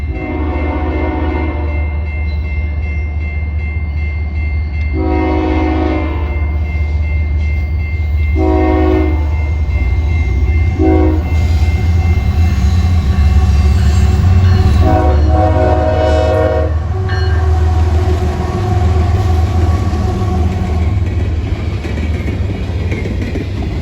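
Potash freight train rolling past while its horn sounds in several long blasts at irregular intervals, loud and close, over a continuous low rumble and rail clatter.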